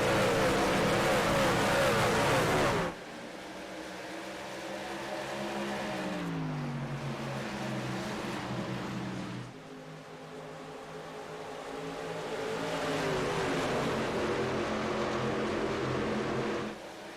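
Race trucks accelerating at Phoenix Raceway on a green-flag restart, a loud roar that cuts off abruptly, then engines rising and shifting pitch as the pack pulls away and sweeps past.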